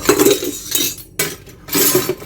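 Dishes and cutlery clink and clatter while being washed up in a home kitchen, in several irregular bursts of metal and crockery knocking together, close and fairly loud, with short pauses between.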